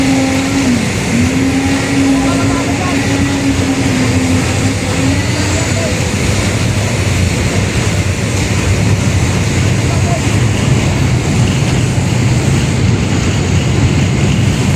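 Concrete vibrator machine running at a night construction site by the Esplanade along the Pasig River, a loud continuous mechanical drone with a steady low hum and a wavering tone in the first few seconds, heard amid broad outdoor noise.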